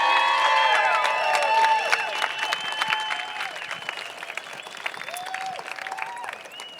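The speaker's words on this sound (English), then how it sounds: "I'd love to get one massive round of applause for the 200 strong staff that worked their butts off" A large conference audience applauds the event staff at a closing plenary, dense clapping and cheering with whistles and whoops rising over it, fading slightly toward the end.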